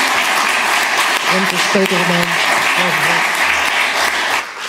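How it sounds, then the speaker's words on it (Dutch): Audience applause for debate panelists at an evening event, steady clapping with someone speaking briefly over it partway through. "geef een heel hartelijk applaus aan onze vier debattanten van vanavond."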